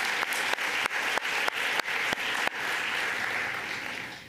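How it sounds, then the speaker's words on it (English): A conference audience gives a round of applause, opening with sharp, rhythmic unison claps about twice a second that dissolve into a dense, sustained wash of scattered clapping, moderately loud and fading gently at the end. "we can have a round of applause for that."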